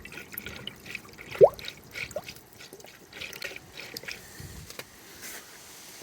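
Coolant in a Toyota Celica Mk6 1.8 cooling system gurgles and bubbles softly as the radiator hose is squeezed, small liquid blips and trickles close by with one louder glug, no talk.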